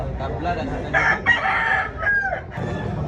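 A rooster crows loudly and close at a chicken expo in Consolacion, Cebu, with clucking, crowd murmur and light background talk around it.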